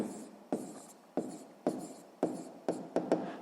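Pen on paper, writing by hand in a quiet room: short, faint scratching strokes, each starting with a soft tap, in an irregular rhythm about every half second.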